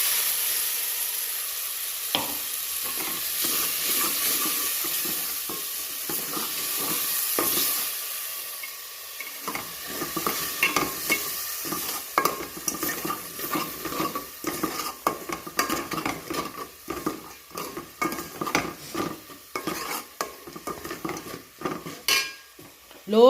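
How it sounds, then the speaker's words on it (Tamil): Tomato paste sautéing in oil on a low flame for rasam, a soft hiss at first, then frequent metallic scrapes and clinks of a spoon stirring in the pan, close, with no talk. "லோ ஃப்ளேமில் வச்சு நம்ம நல்லா வந்து வதக்கிக்கலாம், ஏன்னா அடி பிடிச்சிடும்."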